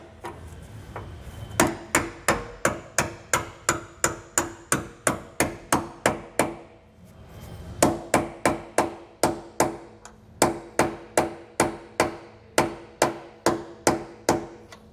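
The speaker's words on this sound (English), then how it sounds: "next I'm gonna take a punch and we're just gonna hammer this bolt out a little bit." A hammer striking a steel punch to drive out a trailer leaf spring bolt: two long runs of sharp, ringing metallic blows at a steady rhythm with a short pause between them, close and loud with no talking.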